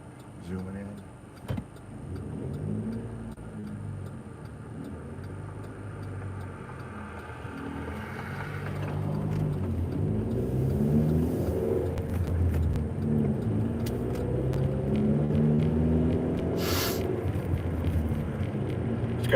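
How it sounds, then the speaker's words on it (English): A car approaches at night in a trailer court, its engine rumble growing steadily louder over several seconds and holding near and loud, heard alongside someone talking. "Car zooming in."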